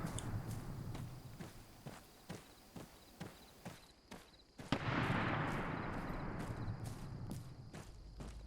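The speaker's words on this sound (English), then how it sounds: "I'm getting really close now and you can hear the shots are very loud now." Sniper rifle shots in the military shooter Arma 3, a steady series of sharp cracks roughly every half second, followed by one louder, closer blast with a long rolling echo, no talking.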